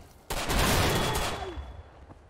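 Gunfire in the multiplayer war game Mare Nostrum during a team fight night, a loud burst of overlapping shots that starts abruptly and rings out over roughly two seconds, with no talk.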